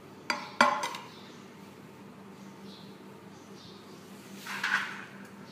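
Chicken kabsa rice being scooped out of a cooking pot, two sharp metallic clanks of a spoon against the pot near the start, then quiet scraping and a soft rustling scoop, faint and close.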